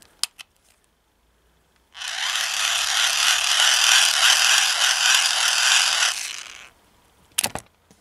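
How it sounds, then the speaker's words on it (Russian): A hand-squeezed dynamo flashlight charger, a Chinese emergency DC 5V generator, ratchets in a steady, dense whirring buzz for about five seconds, close up and alone, with a few faint clicks before and after. "такие фонарики были в СССР, они вот так просто нажимались руками"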